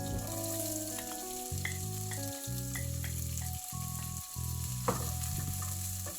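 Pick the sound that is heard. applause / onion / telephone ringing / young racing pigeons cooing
onion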